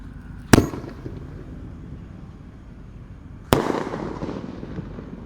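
Two sharp, loud Mercon Elang Mas firecracker bangs about three seconds apart, each followed by a crackling, fading rain of sparks against quiet outdoor ambience.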